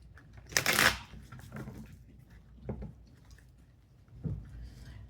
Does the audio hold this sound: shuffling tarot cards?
yes